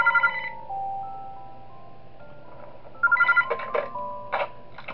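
A telephone rings in the horror game Those Nights At Wario's 3, a synthesized electronic ringtone with repeated bursts near the start and again later, over a low ambient game hum.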